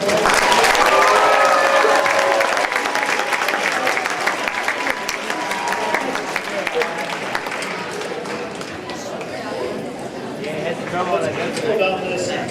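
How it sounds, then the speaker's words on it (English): Audience applause at a high school band and color guard awards ceremony, loud sustained clapping from a large crowd that gradually thins and softens over about twelve seconds. "Give these kids a round of applause."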